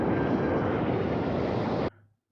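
Aircraft cabin engine noise in Doctor Who, a loud, steady broadband roar that cuts off abruptly near the end.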